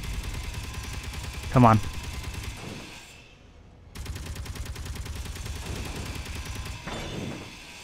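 A Gatling gun rattles in the Space Engineers game as rapid bursts of fire, with a brief pause partway before the firing resumes, and a voice talks over it.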